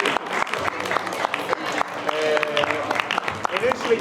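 Applause from a small group, a moderate patter of many hands clapping with some voices mixed in, running steadily for a few seconds.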